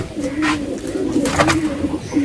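A Teddy pigeon, a male from a Haifa-type flock, coos in low, steady repeated phrases close by, with faint chirps and a voice briefly in the background.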